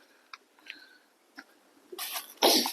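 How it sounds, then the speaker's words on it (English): A few faint clicks and small breaths lead up to a sudden sharp sneeze, loud and close, with a quick intake just before it. "Oh, I got to sneeze."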